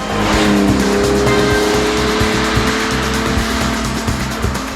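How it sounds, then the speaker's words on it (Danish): Lamborghini Jarama GTS V12 engine driving: a steady, loud engine drone with a pulsing low rhythm and a faint tire squeal near the start. "En fantastisk V12-motor, der leverer varen, som kun en italiensk supersportsvognsmotor kan"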